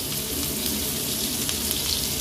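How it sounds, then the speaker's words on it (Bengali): Black cumin seeds and chopped onion frying in hot oil after fish, a dense continuous sizzle with no talking. "এবারে ওই তেলেই আমি কালো জিরা ফোড়ন দিয়ে দিলাম, একটু পেঁয়াজ কুচি দিয়ে দেবো অল্প করে।"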